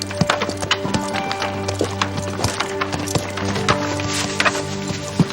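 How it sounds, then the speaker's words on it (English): A horse walks on a hard surface, its hooves clip-clopping in an uneven, steady rhythm of sharp knocks nearby, with faint background ambience and no speech. "A horse."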